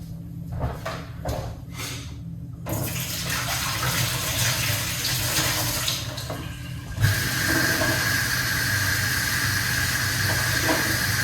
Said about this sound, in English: Let's rinse off these ingredients.